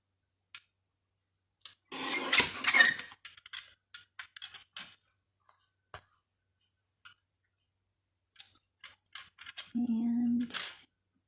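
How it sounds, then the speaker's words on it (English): Scissors cutting card stock for handmade card making, a handful of short crisp snips and clicks in scattered bursts separated by silence, close and clear, with a brief voice or hum near the end. "we're going to cut off the ends of our width."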